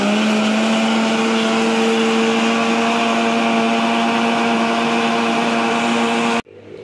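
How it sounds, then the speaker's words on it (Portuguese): A kitchen blender whirs steadily, mixing cake batter with paçoquinha and flour, a loud constant motor hum that cuts off abruptly near the end. "Então, eu vou ligar aqui meu liquidificador."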